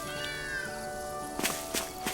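Game cat in Tales of Arise gives a short rising-falling meow, followed by a few soft footstep-like taps with faint background music, quiet and close.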